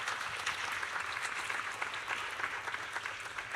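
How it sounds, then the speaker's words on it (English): Applause from an audience at a premiere session, a soft, even patter of many hands that is fairly distant and sustained through the whole stretch. "I just want to give a round of applause, because I really love that."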